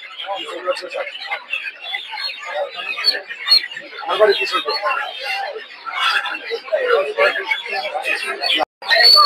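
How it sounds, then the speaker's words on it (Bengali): Many young Egyptian farm chickens, nine days old, in a crowd at a Saturday poultry market in Narsingdi, giving a dense, continuous chatter of peeps and chirps that rises and falls close by. "প্রচুর পরিমাণে মিশরীয় ফার্মিং মুরগি দেখতে পাচ্ছেন"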